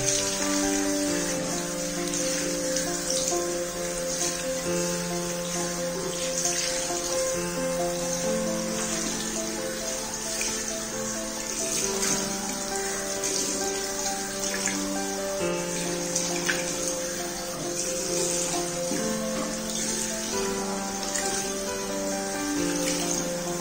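Hands rinsed under a running tap, a steady close stream of water splashing continuously with no pauses.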